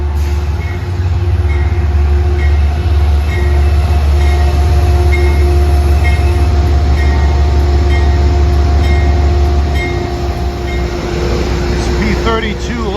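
Amtrak P32 locomotive hauling an Empire Service train from Niagara Falls to Penn Station, passing close and loud with a continuous rumble and rolling wheel noise through Metro-North territory at Croton-Harmon.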